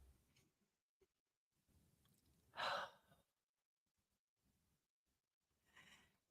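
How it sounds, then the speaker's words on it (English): A single audible breath, a short sigh-like exhale, comes during a quiet guided relaxation. Near silence surrounds it, with a faint tick near the end. "take one slow breath in and a longer breath out"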